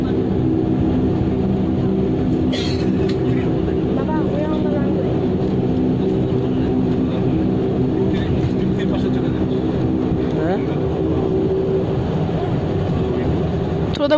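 An airplane on the runway hums as a steady, loud cabin drone, constant throughout, with faint voices talking underneath.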